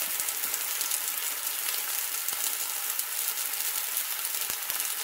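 Turkey rashers frying in a skillet give a steady, close sizzle with fine crackling and a few sharper pops, continuing evenly throughout with no voices.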